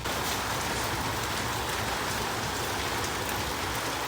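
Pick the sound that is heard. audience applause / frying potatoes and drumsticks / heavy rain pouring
heavy rain pouring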